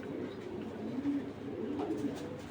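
A racing pigeon coos nearby in low, soft, throaty rolls, repeating through a quiet background with no one talking.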